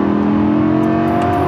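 A cheap used Lamborghini with a tired robotized gearbox, its engine droning loudly and steadily at high revs while the automated clutch and shift work, close and continuous with no talk.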